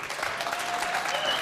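Studio audience applause at a televised political debate in Britain, a steady dense clatter of many hands filling the short moment at even loudness.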